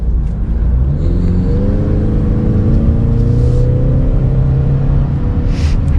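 A 2022 Ford Mustang EcoBoost or Chevrolet Camaro 1LS sports car accelerating hard out of a tight right-hand corner, its engine droning loud and steady with rising harmonics over a constant road rumble, no voices.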